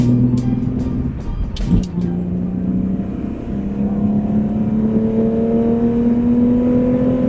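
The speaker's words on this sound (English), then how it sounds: "The only time you can actually hear this motor is when I accelerate" A car engine with its catalytic converters removed drones from inside the cabin, its pitch climbing steadily as it accelerates, with a few clicks and a thump early on.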